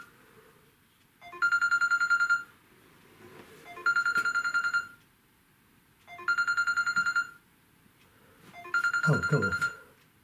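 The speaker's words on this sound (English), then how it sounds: "That's my phone going off in my ear." A mobile phone ringtone sounds in four evenly spaced bursts of bright electronic tones, each about a second long, fairly loud, with a quiet voice briefly underneath during the last ring.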